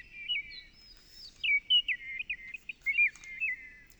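Small birds chirp and warble in quick high-pitched phrases, clear and fairly close, over a quiet background.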